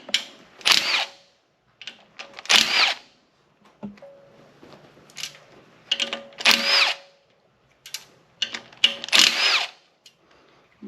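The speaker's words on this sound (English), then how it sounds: "Then with those done, it's time for the sump bolts, which we'll need the 10mm socket for." A power tool fitted with a 10mm socket spins out the sump bolts on a 13B rotary engine during a teardown, in five or six loud, close, separate bursts with short pauses and small clinks between them.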